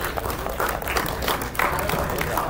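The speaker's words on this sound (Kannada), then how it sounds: "ಇಷ್ಟೊತ್ತು ಚಪ್ಪಾಳೆ ಹೊಡಿತಾರೆ" Audience applause at a film pre-release event rises as a dense wash of clapping from a large crowd, with voices mixed in underneath.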